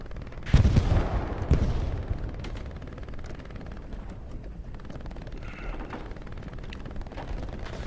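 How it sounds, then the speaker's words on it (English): Gunfire in the World War II shooter Hell Let Loose: a couple of sharp, loud cracks close together near the start, then a quieter stretch of distant battle rumble. "I'm getting shot at now."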